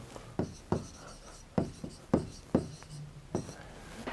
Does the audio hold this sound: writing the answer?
yes